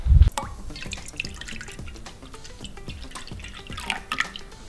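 Milk poured from a carton into a bowl as the first liquid for Swedish pancake batter, starting with a heavy splash then a steady close trickle with drips and small gurgles, no talking.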